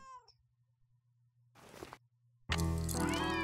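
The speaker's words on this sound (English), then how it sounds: "What does this cat want?" Cat in the video game Nancy Drew: Secret of the Old Clock gives a short meow at the start, then after a quiet stretch a loud, drawn-out insistent yowl, close and clear over a low game hum.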